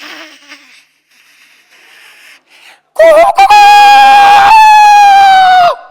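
After some soft, muffled talk, a voice loudly imitates a rooster, drawing out one long, strained crow.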